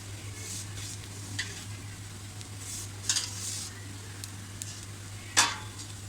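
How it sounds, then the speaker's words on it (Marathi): Dry coconut sautéed in a pan with already-browned fresh coconut for a Malvani black-eyed bean and potato bhaji, a soft steady sizzle with occasional spoon scrapes and one sharper clink, close and fairly quiet. "हे सुद्धा थोडं परतून घेऊया कारण सुकं खोबरं भाजायला काही जास्त वेळ लागत नाही"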